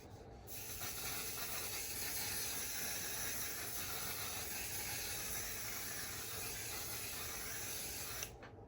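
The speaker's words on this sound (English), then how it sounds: "And you finish with a fixing spray" A steady, close hiss of a fine makeup fixing spray mist runs for about eight seconds without pause, then cuts off abruptly.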